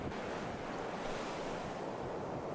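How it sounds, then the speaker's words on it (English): Ocean surf rolls onto the shore of Fire Island in winter as a steady, loud, broadband roar, with wind buffeting the microphone and no voices. "as the ocean, so mysterious, rolls toward me closer and closer"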